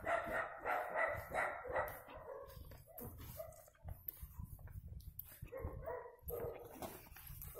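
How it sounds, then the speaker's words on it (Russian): Dogs bark repeatedly along a village street in Alekseevka near Anapa. The barks come in loud, rhythmic bursts mixed with yips and whimpers, moderately close and without talk. "Собаки лают."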